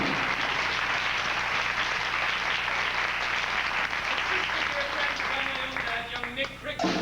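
Audience applause at a staged theatre musical, dense sustained clapping from a large crowd, loud and even, thinning toward the end as a voice begins speaking over it.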